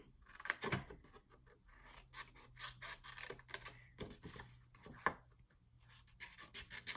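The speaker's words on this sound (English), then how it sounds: "So all we're going to do is cut out all the 4 squares on the outside." Scissors snipping paper squares out of a sheet for mini envelopes, a series of crisp close cuts with rustling paper in between and no talk.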